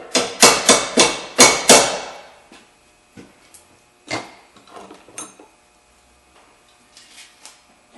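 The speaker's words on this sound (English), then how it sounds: "just tap it and it comes right through" A hammer taps a bolt through a front wheel drive axle: about six sharp metallic strikes in quick succession, then a few sparser, quieter knocks and small clinks of tools.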